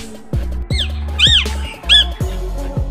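A parrot lets out several loud, harsh squawks in quick succession over a low, steady background.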